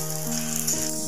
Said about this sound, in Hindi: सबसे पहले हम गोंद को फ्राई करेंगे